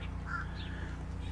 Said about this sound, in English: There's a crow. I'm sure you heard it.